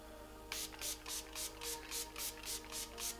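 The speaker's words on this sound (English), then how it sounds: "I'm going to go back in with my Milani Makeup Setting Spray today" A Milani makeup setting spray mists out in a quick series of about ten short, even bursts, close by, with no voices.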